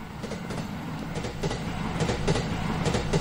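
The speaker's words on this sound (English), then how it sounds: "I hear the train." A train in the horror video game Teke Teke: Moonlit Dread rumbles with a steady low drone and rhythmic clacking wheel beats that grow slightly louder, heard alone without talk.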